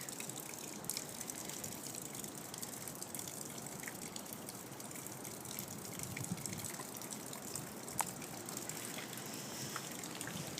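Rainwater pours steadily from a spout outdoors, a continuous wet gushing and trickling that stays even in level throughout with no one talking over it.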